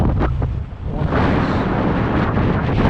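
Strong gusting wind buffets the microphone on a Jacksonville, Florida shore just before a storm, a loud continuous roar that surges after a brief lull, with no talking.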